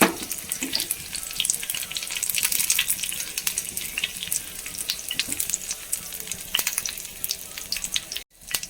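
Fresh curry leaves crackle in hot coconut oil in a pan, a close, bright sputtering sizzle with sharp pops that fades a little over time and briefly cuts out near the end, with no speech.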